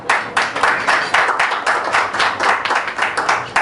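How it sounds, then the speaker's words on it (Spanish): Audience applause at a FIHNEC testimony gathering, steady rhythmic clapping from a room of people, fairly close and loud, lasting the whole stretch without talk. "Por favor, recibamos con un aplauso."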